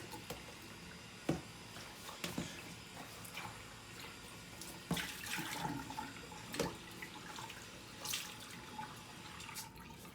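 Water running from a tap as a washbasin is rinsed out in a bathroom sink during a bed bath, steady flow with splashes and a few louder clunks, no talk.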